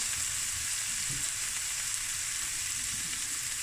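Food frying steadily in a pan while prawn and lentil spicy rice is cooked, a dense, continuous sizzle with no talk over it.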